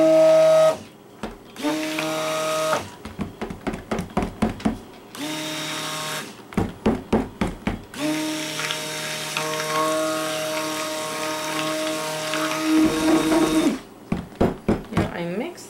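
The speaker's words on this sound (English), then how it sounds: "we're going to stick blend our colors in" A stick blender whirs through goat milk soap batter while colorant for a lavender mint bar is mixed in, running in long steady bursts and rapid short pulses, loud and close, with stops between.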